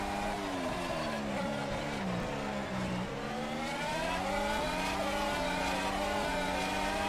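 A Ferrari Formula 1 car in the rFactor 2 racing game screams on board through the corners at Bahrain, its engine note rising and falling steadily as gears shift, loud and continuous.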